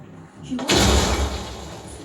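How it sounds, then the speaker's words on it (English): A heavy door bursts open in the Uncharted 4 video game, a sudden loud thud followed by a broad, lingering rumble with no talk over it. "Hey, got the door open."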